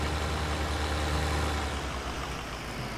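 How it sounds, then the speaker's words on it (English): A farm tractor's engine idles with a heavy, steady low rumble, close and loud, easing off slightly toward the end with no speech. "This tractor's a beast."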